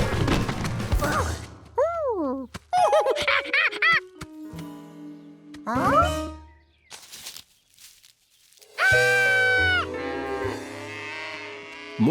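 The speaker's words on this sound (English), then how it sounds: "More cows were coming." Cartoon cows mooing in a Curious George kids' film, several drawn-out, pitch-bending moos between thumps, clatters and light music, with a loud chorus of moos near the end.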